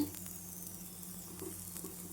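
Onion paratha sizzling in a hot pan just after being flipped, a steady, quiet frying hiss with faint crackles throughout and no voices.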